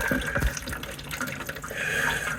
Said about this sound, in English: here comes the water. I'm going to catch most of it.